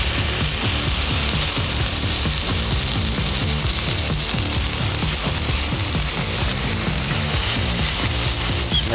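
A burger patty piled with onions is smashed with a spatula on a Blackstone griddle, a loud continuous sizzle with rhythmic scraping and clicking throughout.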